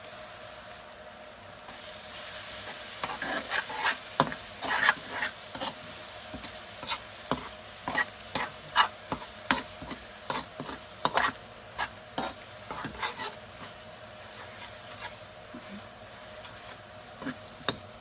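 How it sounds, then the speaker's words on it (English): Garlic and masala fry in a pot for a Guyanese crab curry, a close hissing sizzle punctuated by a rapid, uneven run of spoon scrapes and taps as the mixture is stirred, with no talk. "So in goes my garlic and my masala."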